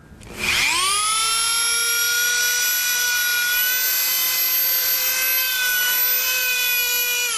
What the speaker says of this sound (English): has anyone seen this being a flexible shaft for a Dremel?